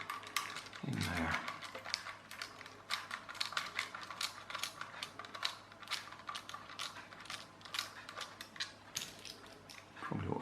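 A Kid Galaxy RC drift car's small electric motor runs at close range, a thin steady whine broken by rapid clicking and rattling bursts, with one deep low swell near the start and another at the end.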